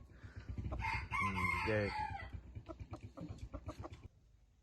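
A red-feathered decoy rooster crows once, loud and close, with a long rising and falling call, followed by a string of shorter clucks and fowl noises.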